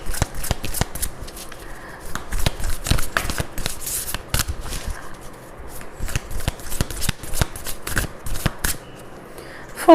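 Oracle cards being shuffled for a Hindi tarot reading: close, crisp riffling and flicking of a deck in rapid uneven bursts throughout, with brief pauses and no talk.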